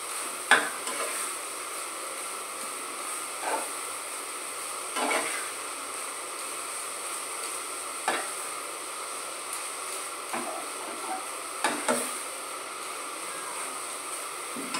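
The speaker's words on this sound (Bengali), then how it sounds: "যাতে সফট থাকে পুরো এই মেশানোর মণ্ডটা, তার জন্য হালকাভাবে এটাকে একটু কষিয়ে নেব" Kofta mixture for a carrot kofta curry sautéed lightly in oil, a steady low sizzle broken by several soft scraping stirs of the spoon, close and moderately quiet with no talking.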